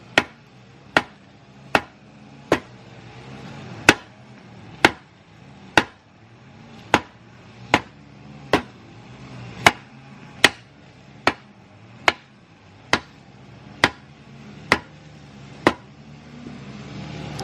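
A hammer drives subframe bushings into a Nissan 350Z, making sharp, loud, evenly spaced blows, about one per second, near and alone with no speech.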